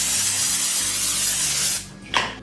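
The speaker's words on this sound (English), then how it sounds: "I'm gonna spray it with my cooking spray" A close, steady hiss of cooking spray into a 9 by 9 inch pan lasting almost two seconds, then a short clatter as the can is set down.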